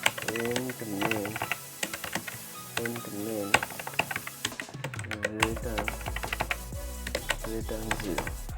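Quick irregular keystrokes on a computer keyboard while typing C++ code, close and clear, running under a man's steady speech throughout.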